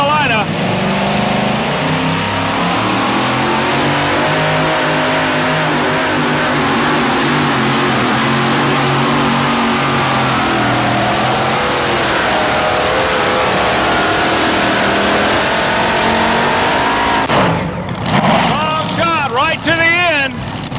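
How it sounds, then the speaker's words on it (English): A loud, roaring Chrysler Hemi engine drones continuously at a 1987 tractor pull in Raleigh, North Carolina, its pitch rising and falling slightly, before a few sharp bursts near the end. "This guy runs a Chrysler Hemi engine."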